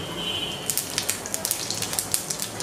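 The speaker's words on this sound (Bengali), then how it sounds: "দিয়ে দিচ্ছি আধা চা চামচ পরিমাণ আস্ত জিরা" Whole cumin seeds tossed into hot mustard oil crackle and sizzle steadily up close, with sharp little pops scattered over a constant frying hiss.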